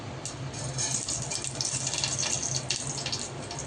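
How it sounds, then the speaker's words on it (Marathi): Mustard seeds splutter in hot oil in a pan for a khaman dhokla tempering, giving a continuous close crackling sizzle with rapid tiny pops throughout. "मोहरी चांगली तडतडली"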